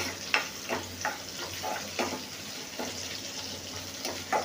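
Lemon juice, asafoetida and salt sautéing in a pan, with a soft steady sizzle broken by regular stirring strokes roughly every half second, close but fairly quiet.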